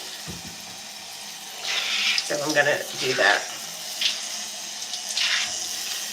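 A tap runs in a sink as water warms up for a hair wash, a steady stream rising in loudness with a person talking over it.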